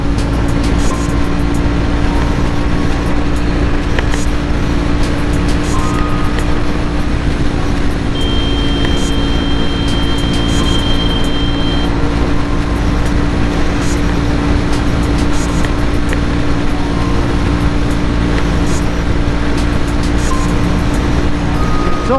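Jawa 42 BS6 motorcycle at top speed near 130 km/h on a highway, a steady loud engine drone with heavy wind roar throughout, no pauses.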